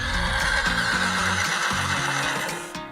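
A horse whinnies loudly and close, its neigh trembling with a rising-and-falling pitch for nearly three seconds before trailing off.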